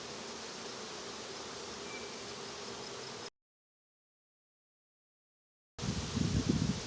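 Honeybees buzz steadily around an open hive while nucleus colony frames are inspected, a dense continuous hum that cuts out briefly, then returns with close rustling handling.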